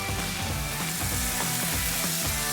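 Tomatoes dropped into a hot pan for prawn sukka with spices, turmeric and salt fry with a steady, loud, close sizzle and crackle that carries on without pause, and no one speaks.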